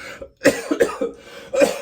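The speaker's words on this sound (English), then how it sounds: "I have to cough" A few sharp, close coughs in quick succession, separated by brief pauses, with a rough throaty edge.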